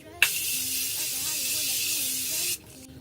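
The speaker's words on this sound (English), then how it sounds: "I use like 3 setting sprays." A makeup setting spray hisses out in one long continuous burst lasting a little over two seconds, loud and close, then cuts off abruptly into quiet room tone.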